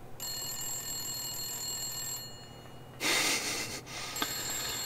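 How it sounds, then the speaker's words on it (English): A telephone rings in a video game with a steady electronic bell tone. A brief burst of noise breaks in partway through, and then the ringing carries on, clear and fairly loud. "Who's on the phone?"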